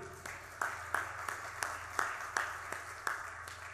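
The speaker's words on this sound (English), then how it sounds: "A big round of applause to all of you" Audience at a festival talk clapping in a faint, evenly spaced rhythm, sharp claps about three per second over a quiet room background.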